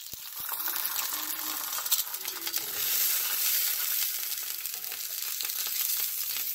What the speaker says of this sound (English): So I'm gonna scoop up some of that fat right onto the griddle.